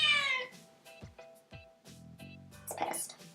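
A hungry cat meows several times for food, short insistent cries spaced out, with light clinks and bits of quiet talk around them indoors.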